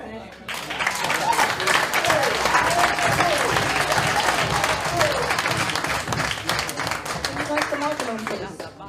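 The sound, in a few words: audience applause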